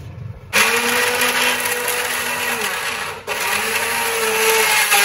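An electric mixer grinder whirs loudly and steadily as it grinds garlic cloves and spices in its jar, switching on abruptly after a short pause and running continuously with a brief dip midway.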